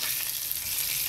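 Chicken pieces fry in a pan with a bright, steady, close sizzle of hot fat, a constant hiss with no voices.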